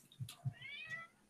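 A cat gives a short meow during a tabletop game session, a quiet rising-and-falling cry preceded by a couple of soft thumps.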